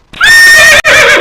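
A horse neighs loudly and close up at a village cricket match, a rising whinny that breaks briefly and then continues in a second shorter burst.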